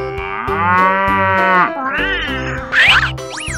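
A cartoon cow gives a long, drawn-out moo over playful music, ending with a couple of short, squeaky accent sounds.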